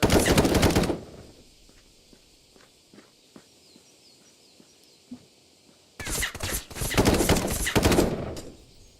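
Automatic gunfire in the VR video game Contractors, a loud burst of rapid shots at the start, then quiet footsteps and scattered soft thuds, before two more long, loud bursts of fire.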